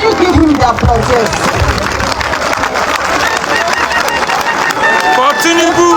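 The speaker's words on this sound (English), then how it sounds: "please, can you give him the applause?" Applause and crowd noise at a Nigerian political gathering, sustained and fairly loud throughout, with voices mixed into the clapping.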